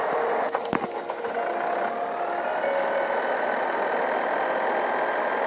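Tractor engine in the Farming Simulator 14 video game, a steady, moderately loud mechanical drone with a few brief clicks near the start.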